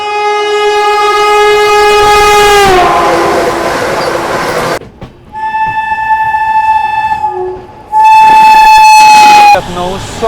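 An Indian express train on the Islampur–New Delhi Magadh Express route roars past up close with long, loud blasts of its horn, a rushing rumble of wheels and carriages underneath, the horn sounding again near the end.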